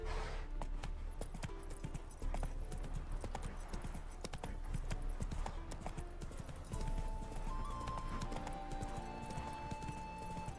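Roach, a horse in the video game The Witcher 3, gallops with rapid, rhythmic clip-clop hoofbeats over a steady game soundscape, close and continuous, with a whinny heard at one point.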